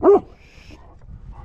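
A dog barks once, loud and close, on a mountain hiking trail, then quiet outdoor ambience follows.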